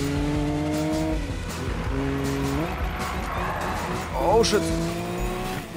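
A car drifts in the racing game Need for Speed, its engine revving in stepped pitches while the tires squeal through the slide, close and loud, with someone shouting an exclamation over it.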